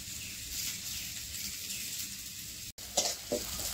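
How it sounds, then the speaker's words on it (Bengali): Onions and potatoes fry in a pan with a steady soft sizzle, broken by a brief gap and then a few louder stirring clatters. "পেঁয়াজ ভাজা হয়ে গেছে আর আলু দিয়ে হালকা ভাজা করছি"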